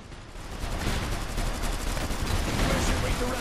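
Sustained gunfire from a battle in the Iron Harvest strategy game, a dense, steady clatter of rifle and machine-gun shots lasting throughout, with faint voices mixed underneath.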